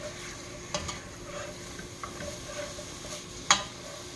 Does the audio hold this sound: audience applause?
no